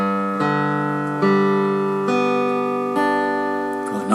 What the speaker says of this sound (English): Open G tuning on the top 5 strings.